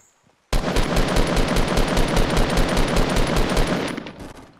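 Rapid gunfire in the Fortnite battle royale video game bursts out loud and close after a brief quiet, a fast continuous stream of shots lasting about four seconds before it tapers off.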